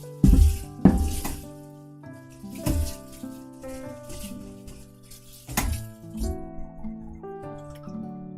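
Water runs from a tap into a kitchen sink while a cutting board and knife are washed, steady splashing and pouring with knocks and clatters of the board and knife against the basin, close by.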